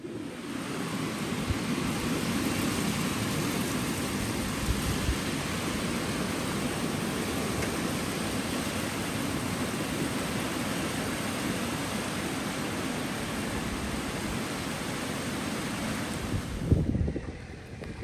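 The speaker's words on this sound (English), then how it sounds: "it's been absolutely crazy amount of wind and just sustained for so long." Strong, sustained wind roars steadily for the whole stretch, a broad even rush with microphone buffeting and no let-up, heard alone outdoors.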